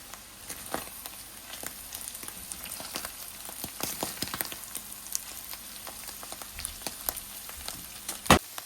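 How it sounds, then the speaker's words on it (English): Bitter melon (karela) with turmeric sautéing in a pot, a steady close frying sizzle with scattered crackles and stirring scrapes, ending in a sharp loud clatter; no talking. "So my karela is fried to my desire."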